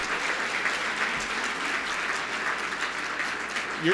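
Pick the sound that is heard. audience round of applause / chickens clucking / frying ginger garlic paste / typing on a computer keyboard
audience round of applause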